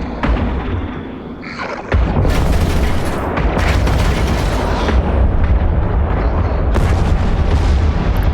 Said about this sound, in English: As you can see, both our guns are firing on him